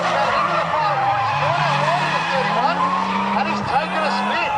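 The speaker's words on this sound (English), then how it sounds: "he's taken a spin straight through the hyperdrive car" Tyres squeal and skid loudly as a drift car spins during a Drift Nats round, with engines wailing and a commentator talking over the continuous screech.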